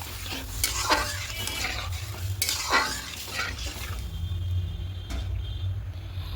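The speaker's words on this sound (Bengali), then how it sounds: "এখানে লবণটা অ্যাড করবো, খুব ভালো করে মিশিয়ে নেব।" Vegetable masoor lentil dal being stirred after salt goes in, a spoon scraping and sloshing through the thick mixture in repeated strokes, with a soft steady sizzle underneath.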